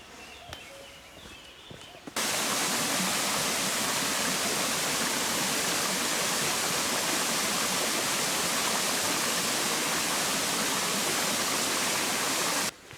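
The Cascade des Mathieu waterfall in the Corbières massif roars in a dense, loud, steady rush that surges in abruptly after two quieter seconds of outdoor ambience and holds evenly until near the end.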